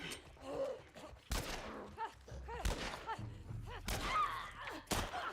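Gunfire against zombies in The Last of Us Part 1: a few scattered shots and thuds mixed with groans and game sounds, fairly quiet overall.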